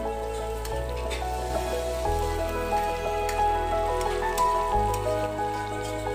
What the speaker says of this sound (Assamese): অকণমান দেৰি পিঁয়াজ, আদা, নহৰু অকণমান দেৰি ভাজিব লাগে।